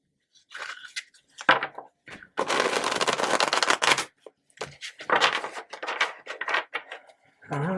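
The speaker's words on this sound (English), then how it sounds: "Give it one more shuffle for you guys." Tarot cards shuffled close by in several short bursts, with one long, dense riffle in the middle and brief pauses between shuffles.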